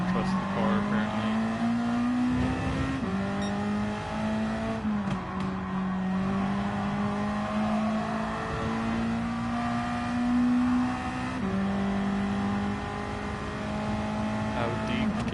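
Race car engine in a racing video game, a loud continuous drone rising and dropping in pitch as it revs and shifts, with someone talking over it.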